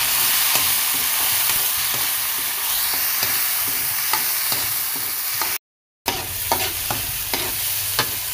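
Onion, garlic and tomato fry in a pan for sweet squid adobo, sending up a steady sizzle broken by repeated spatula stirs and scrapes, with a brief silent gap near the end.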